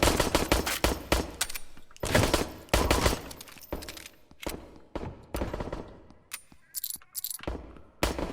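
Video game gunfire crackles in repeated bursts, rapid automatic volleys and sharp single shots, loud and close, alternating with brief pauses.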